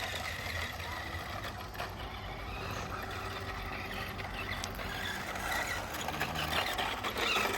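A 1981 Tamiya Ranger F150 XLT radio-controlled truck runs across a rough dirt parking lot, its small motor whining steadily and close for several seconds, with gravelly crunching and rattles throughout.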